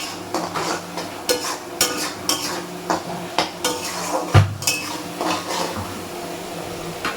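Mutton masala cooked down in a pot with the water used to rinse the spice grinder, stirred in a steady rhythm of metal scraping and clanking against the pot, close and fairly loud over a soft sizzle, with no voices.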